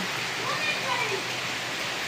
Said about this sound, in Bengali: রমজান মাসের প্রথম বৃষ্টি, মাশাআল্লাহ খুব সুন্দর লাগতেছে।